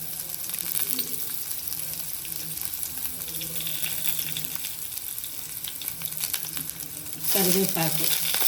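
Thinly sliced garlic and onions sizzle steadily in hot oil in a pan, a close, continuous crackle with a louder burst of frying near the end.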